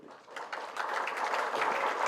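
An audience applauds keynote speaker Pradeep Sachdev at a memorial address, a soft patter of clapping that swells after a quiet start and holds steady without voices.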